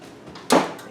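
An oven door shutting after a pan of blueberry pie dessert bars goes into a preheated oven: a single sharp, close thud-clack after a short quiet stretch, briefly ringing out.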